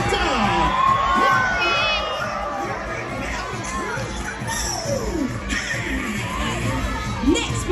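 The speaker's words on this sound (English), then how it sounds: "Please give a big Buccaneer cheer for Pirate Donald Duck!" A crowd with many children cheers, shouts and whoops for Pirate Donald Duck at a Pirates Night party aboard the Disney Dream, a lively, fairly loud burst that settles into excited chatter.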